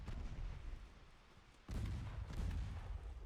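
Four-inch naval guns fire in a naval battle game, heavy booming reports with a low rumble; a sharp loud blast lands midway, followed by continued rolling gunfire.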